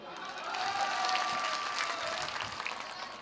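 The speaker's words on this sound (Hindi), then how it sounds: "एक बार अपने आप के लिए ताली बजाइए" A crowd at a Bihar election rally claps for itself, applause swelling in after a brief quiet start and then holding as a fairly soft, distant, continuous patter of many hands.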